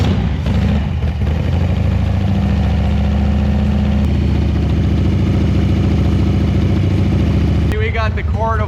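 A 1985 Harley-Davidson FXRT motorcycle engine, loud and close, settling into a steady rumbling idle with some revving, and a brief higher-pitched sound near the end.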